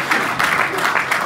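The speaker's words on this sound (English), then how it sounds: "Are we not clapping Devsani?" Brief clapping from a press conference crowd at a boxing event, a short burst of applause at moderate loudness with a voice faintly mixed in.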